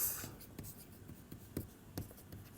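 Chalk or pen writing by hand during a lecture, with a series of short scratchy strokes tapping at an irregular pace, close and fairly quiet.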